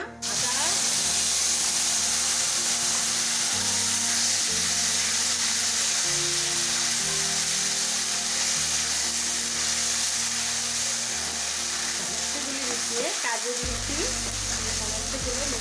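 Panch phoron spices frying in hot oil for dhokar dalna, a loud continuous sizzle and crackle with some stirring scrapes and low hums underneath, and a voice speaking briefly.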